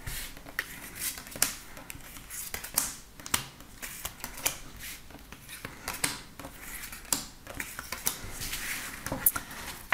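Tarot cards being shuffled and drawn, a steady run of soft papery riffles and slaps with frequent sharp flicks, close and fairly quiet, with no voice over it.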